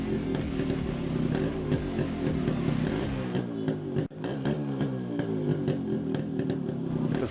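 A Yamaha RX 100 two-stroke motorcycle engine revs with a crackling, buzzy rasp, rising and falling in pitch through quick throttle blips, loud and close with no talk.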